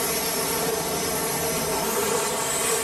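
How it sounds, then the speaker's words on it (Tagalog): A continuous, loud jet roar from deployed US F-18 fighter jets at night, a steady broadband rush with no break and no voices. "Ito daw po ang daan-daang idineploy na F-18."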